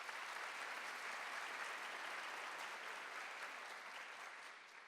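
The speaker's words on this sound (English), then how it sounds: "Let's give them a round of applause" Audience applause at a university panel event, steady dense clapping from a large crowd that holds evenly for the whole stretch, moderately distant, before easing off slightly at the end.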